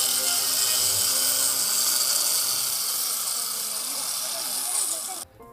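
An angle grinder girdles a fruit tree trunk, giving a loud, steady high-pitched grinding whine that holds for several seconds and then cuts off abruptly.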